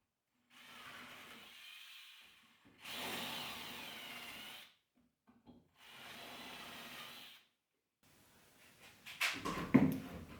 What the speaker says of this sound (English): repeat with pinning in, clamping, drilling holes all the way down